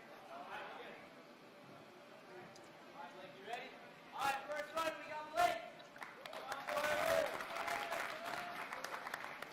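Crowd at a kids' athletics challenge course claps and cheers, rising from scattered claps to a sustained burst of applause and whoops, with voices talking throughout.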